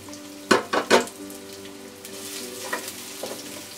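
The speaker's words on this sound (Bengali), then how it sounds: "তেলটা গরম হতে হতে আমি 1/3 কাপের মতো একটু পেঁয়াজ কুচি দিয়ে দিলাম।" Chopped onion, about a third of a cup, frying in half a cup of hot oil in a pot for a lima bean and stinging catfish curry, with a few sharp sizzling bursts and clatters early, then a steady hiss.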